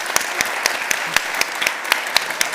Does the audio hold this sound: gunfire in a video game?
no